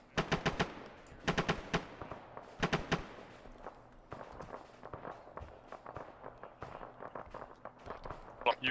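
Gunfire in the video game Arma 3: sharp bursts of automatic rifle fire ring out in rapid clusters, then continue as scattered shots and short volleys at moderate distance.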